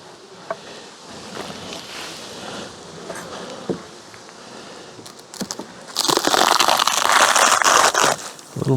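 Honey bees buzz around an open hive during a late season colony check. A low steady hum carries a few faint knocks, then a loud rough scraping and crackling starts partway through and continues to the end.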